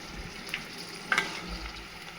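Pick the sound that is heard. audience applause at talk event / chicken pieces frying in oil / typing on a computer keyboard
chicken pieces frying in oil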